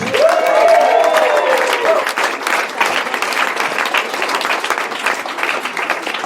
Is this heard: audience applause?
yes